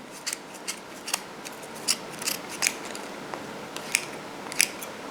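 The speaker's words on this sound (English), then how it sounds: "I like using my smaller scissors, and then I just go right through and cut the yarn right down the center." Small scissors snipping through yarn wound on a pom-pom maker, a series of crisp, close cuts at an uneven rhythm, each a short sharp click, heard alone with no talking.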